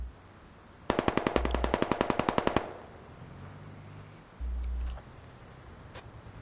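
A PKT machine gun on a BTR in the military game Squad fires one rapid burst of about fifteen sharp shots, followed by faint mechanical clicks and low rumbles, with no voices.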